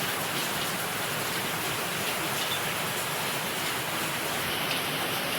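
Steady rain falls continuously, a dense even hiss of drops with no breaks and no voices.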